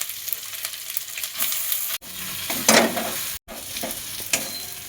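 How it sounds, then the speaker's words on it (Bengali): Green chili paste and asafoetida sizzle in a hot pan as a spoon scrapes and stirs them, a close, crackling frying sound with brief pauses between strokes. "হিংটা দিয়ে একটুখানি নেড়ে চেড়ে নিলাম।"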